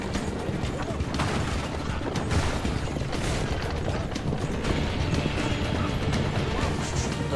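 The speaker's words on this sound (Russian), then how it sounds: "Лошади. Милые лошади." Horses clip-clop through a dense, noisy scene in Assassin's Creed II, the hoofbeats blending into a steady wash of background game sound.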